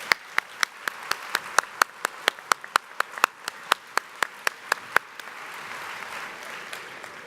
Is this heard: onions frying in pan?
no